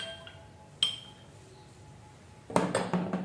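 A metal spoon clinks against a bowl while spices are stirred into onion juice for Kolkata-style chicken biryani, with a sharp tap early on and then a quick cluster of clinks near the end over a quiet background.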